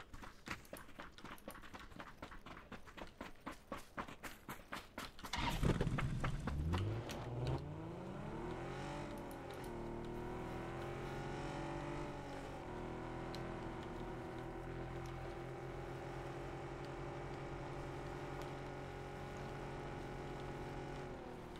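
Vehicle in PUBG, a rattling clatter at first, then the engine surges loudly and settles into a steady drone with shifting pitch as it drives on.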